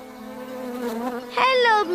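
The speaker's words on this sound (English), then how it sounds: "Hello, Mr. Bee" Harmonic buzzing of a honeybee, a steady drone that rises into a louder, higher whine in the last half second, close and continuous with no talk over it.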